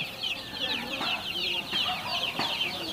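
Month-old native country chicks peep and cluck in dense, overlapping high chirps from a crowded group, faint and continuous, with no speech.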